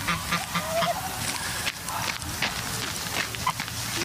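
A domestic goose bought at a market in Dnipro honks outdoors near a stadium during an evening run, with a few short honks mixed into steady background noise and footsteps, fairly faint.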